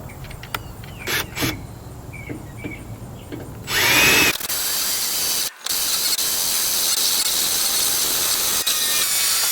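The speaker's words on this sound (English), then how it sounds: "I'm drilling this hole saw into the underside of the trunk" A hole saw on a power drill bores into the underside of a 2015 Scion FR-S trunk during a spoiler swap, with loud grinding and whirring, a brief pause, then steady cutting; earlier, softer clicks and handling noises precede it.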